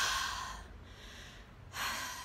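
A person outdoors on a Sunday walk takes a long, airy breath in, pauses, then lets out a breathy exhale, close to the microphone with no talking.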